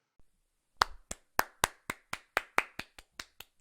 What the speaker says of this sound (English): Everyone give him a round of applause right now.